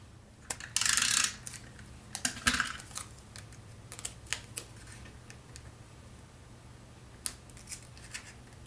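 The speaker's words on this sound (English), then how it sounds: "So let's go ahead and use our paper trimmer, and we're going to trim off the little tab at the end." Paper trimmer slicing off a small tab of cardstock: one short scraping cut, followed by a few soft clicks and taps on the crafting table, close and quiet.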